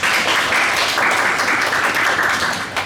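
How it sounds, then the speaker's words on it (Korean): An audience applauds a convention society during a conference opening ceremony, a steady, dense wash of many hands clapping at even loudness for about three seconds. "정말 여기 계시는 경희 컨벤션 학회 여러분들한테 좀 한번 박수를 쳐드리고"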